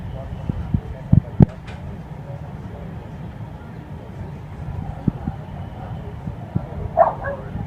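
A dog gives a few short, sharp barks and yips, two louder ones close together early on and another brief burst near the end, over a low steady background hum.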